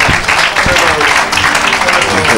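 An audience at a French-language evangelical church service breaks into sustained, loud applause and cheering that fills the room from start to finish, with voices mixed into the clapping.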